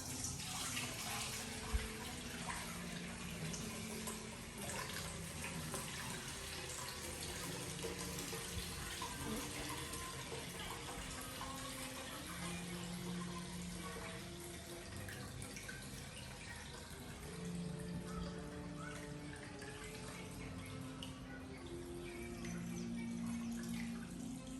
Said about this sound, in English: We use the sieve in order to sieve our wine.